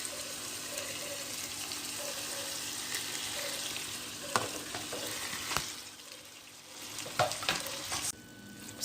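Chicken curry paste with turmeric sautéing in a pan, a soft continuous sizzle at first, then several sharper stirring scrapes and clacks toward the end.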